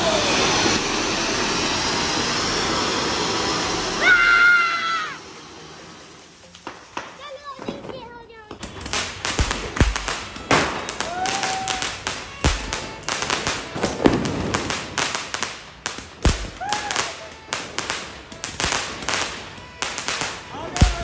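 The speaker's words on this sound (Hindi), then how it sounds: "रामलला की खुशी में धड़ाधड़ पटाखे चल रहे हैं" Firecrackers and anar fountain fireworks go off during a celebration, with a loud hissing, crackling fountain spray at first, then a rapid run of sharp, close bangs and pops; voices and children can be heard between the blasts.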